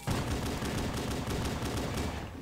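Sustained rapid-fire gunshots in Halo 5 pour out in a steady, loud stream of closely spaced cracks, close by and without talk.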